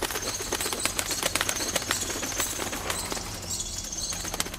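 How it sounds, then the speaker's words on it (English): Bats flying through a cave in Meghalaya, a dense flutter of wingbeats and soft whooshing over a noisy rushing background, with scattered high chirps and no voices. "The whoosh of bats in flight sounds like a helicopter."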